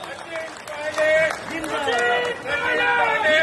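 A crowd at a political gathering claps and shouts, a steady rush of applause under loud overlapping voices and cheers.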